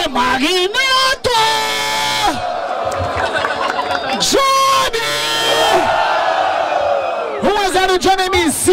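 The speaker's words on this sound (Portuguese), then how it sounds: "Barulho para os irmãos de Magneto" A Brazilian rap battle crowd at Batalha da Aldeia yells, whoops and bellows in loud, sustained bursts, with shouting voices rising and falling throughout and an MC calling over the noise.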